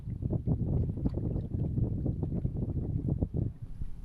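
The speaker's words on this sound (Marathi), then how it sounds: "हवेचा पण आवाज येतोय" Wind rushes steadily around a small wooden fishing boat out at sea off Navi Mumbai, a constant low buffeting roar with gusty swells and no voices.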